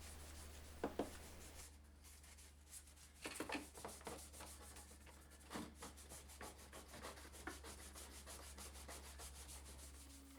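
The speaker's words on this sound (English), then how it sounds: "I'm just using some acetone for that." Grey plastic rubbed clean with an acetone-soaked cloth, giving soft, close scrubbing strokes in irregular bursts over a steady low hum.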